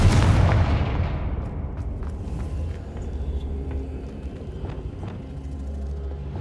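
A Confringo blasting spell in Hogwarts Legacy bursts in a loud, deep explosion right at the start, then fades into a long rumbling tail with scattered small crackles and thuds.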